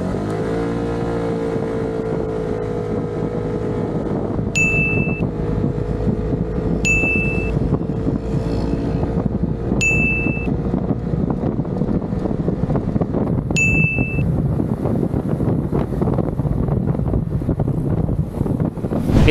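A motorcycle engine drones and builds speed to 60 km/h under heavy wind buffeting, with four short electronic beeps spaced through the run.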